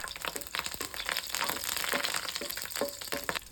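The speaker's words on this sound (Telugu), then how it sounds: "ఫ్రైంగ్ ప్యాన్లో తగినంత నూనె వేయాలి కరివేపాకు పచ్చిమిరపకాయలు వేయాలి" Curry leaves and green chillies frying in oil in a pan for a village-style brinjal curry, a close, steady crackling sizzle with scattered pops, heard alone without speech.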